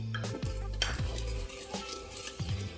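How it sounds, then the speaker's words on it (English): Sugar mixed into a liquid mixture for cloverleaf roll dough, a spoon swirling and scraping around a bowl in short strokes with a couple of light clinks, close and fairly quiet. "we are going to add the sugar. We're going to mix that around."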